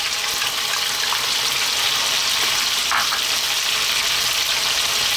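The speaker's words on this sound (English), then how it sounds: "Now we're going to add our onion." Onion frying with browned chicken in a pan for a chicken and bean stew in tomato and garlic, a steady, loud, even sizzle that runs throughout with no talking.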